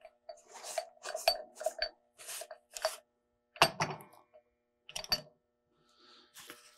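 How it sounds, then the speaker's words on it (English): Rag rubbing and wiping grime off a Ludlow typecasting machine plunger, a series of short close scrubbing strokes with brief pauses and a few small metallic knocks, no voices. "take a rag and kind of wipe off what you can"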